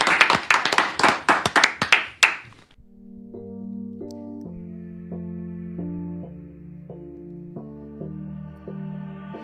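A studio audience on a radio music show claps in a dozen sharp, loud strokes for roughly two seconds, then stops as a keyboard melody begins.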